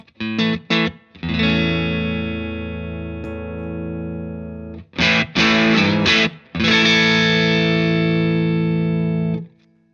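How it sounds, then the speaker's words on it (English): Electric guitar through a low-gain overdrive pedal plays a few short clipped chords, then long sustained ringing chords, punchy and mid-forward with slight grit, close and alone. "A lovely low gain overdrive sound, really great rhythm sound."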